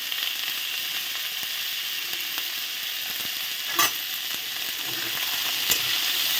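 Potato and eggplant fry in a pan with a continuous bright sizzle, punctuated by two sharp clacks of a utensil, close and steady with no talk.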